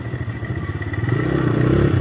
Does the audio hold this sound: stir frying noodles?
no